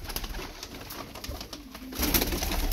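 Taklacı tumbler pigeons cooing inside a loft, soft repeated low coos close by over a constant rustling background, a little louder toward the end, with no voices.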